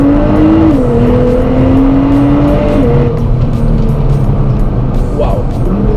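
A Nissan GTR supercar accelerates hard in the rain, its loud, steady engine drone holding a strong tone before the pitch shifts partway through, with wet road noise continuing underneath.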